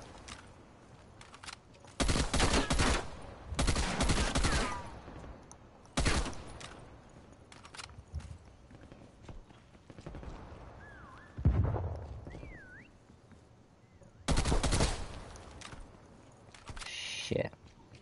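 Gunfire in Call of Duty Black Ops Cold War prop hunt: several loud bursts of rapid automatic fire and single shots spread across the clip, close and punchy, with a person talking between volleys.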